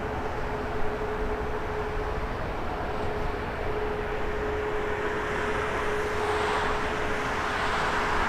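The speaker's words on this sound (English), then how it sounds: "Aero Mexico lining up behind it. .737 MAX 9 headed to Mexico City." An Aeromexico Boeing 737 MAX 9 lines up for departure at Toronto Pearson airport, heard as a steady, distant jet engine drone with a constant hum and no distinct events.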